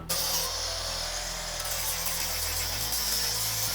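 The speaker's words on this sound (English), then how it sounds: "Shall I do some grinding?" An angle grinder works on rusty body metal of an FC Holden under restoration, running as a loud, steady, continuous whine close by for the whole stretch, its pitch dipping slightly near the end.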